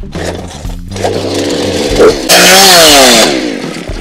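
A chainsaw revs loudly up close, its engine rising into a high, harsh roar as it bites into wood.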